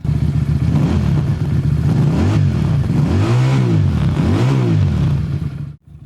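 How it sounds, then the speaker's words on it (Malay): A QJ Motor SRV250 AMT motorcycle engine revs up and down in several swelling bursts at close range, then cuts off abruptly near the end, with no talking over it. "Korang dengar bunyi motor ni."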